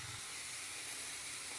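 Coconut broth with agurong snails boiling in a pot, a steady close bubbling hiss filling the whole moment without talk.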